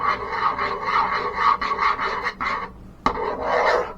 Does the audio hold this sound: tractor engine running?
no